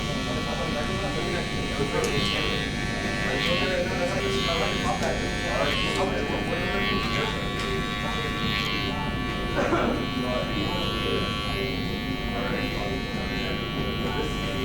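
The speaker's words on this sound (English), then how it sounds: "I would open and close my clipper just to ensure that everything's faded nicely" Electric hair clipper buzzing steadily while fading hair during a burst taper fade in a barbershop, a continuous close hum with brief strokes, with speech present throughout.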